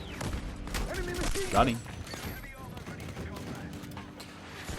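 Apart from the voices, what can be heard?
gunfire from a gun in the video game Battlefield 6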